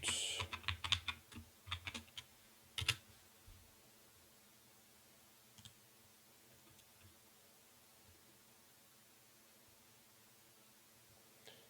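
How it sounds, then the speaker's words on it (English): Keys clatter on a computer keyboard in a quick burst of typing, about three seconds of close, crisp clicks, then a few isolated taps spaced out over a long near-silent stretch, as an email and password are entered to log in. "I'm going to type my email to log into NetAcad."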